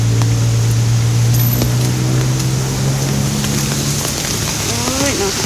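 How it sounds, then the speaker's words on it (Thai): Steady rain falls with a constant hiss, under a low engine-like drone that fades out partway through. "ฝนตก"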